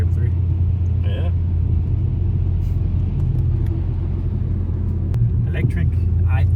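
Mercedes E63S AMG driven gently, a steady low engine and road rumble from inside the cabin, with a person talking over it throughout.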